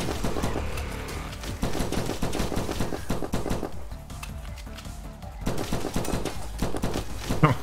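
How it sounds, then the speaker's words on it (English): Uzi submachine gun fire striking a wall in the video game From Space: dense, rapid bursts of close, sharp shots that continue almost without pause and drop briefly before resuming. "shooting the wall. that Uzi."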